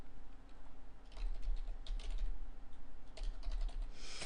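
Quiet clatter of fingers typing on a computer keyboard in an office setting, irregular bursts of keystrokes close to the microphone with no voices.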